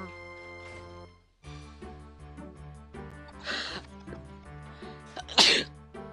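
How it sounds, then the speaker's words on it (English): A person lets out a sharp, sudden sneeze near the end, preceded by a smaller sniffing burst, close and loud over quiet background music. "have a sneeze and you can't, like, sneeze it out"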